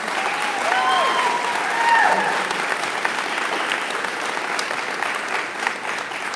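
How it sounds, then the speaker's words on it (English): Audience applause at a nurse pinning ceremony, a dense, steady wash of clapping from a large crowd lasting throughout, fairly loud, with a few faint voices or whistles rising above it early on. "Can I have a round of applause,"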